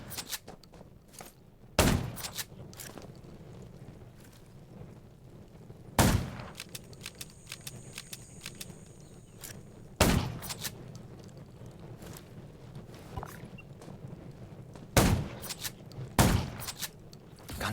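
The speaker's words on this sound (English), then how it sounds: "Gunshots." Sparse, sharp gunshots ring out about every few seconds over a low droning background, loud and separated by quiet stretches, in the zombie shooter game Undawn.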